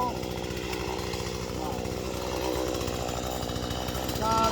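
A chainsaw cuts with a rough, buzzing drone that holds steady for several seconds, mixed with faint voices in the background.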